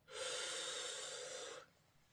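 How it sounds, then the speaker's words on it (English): A long, steady nasal inhale of peppermint essential oil drawn through cupped hands, close and loud, lasting about a second and a half before falling to quiet. "breathing in"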